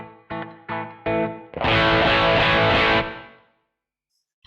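Electric guitar played through a Kemper Profiler with reverb: four short, separate chord stabs, then one loud sustained distorted chord that rings out and fades into a reverb tail, with no talk.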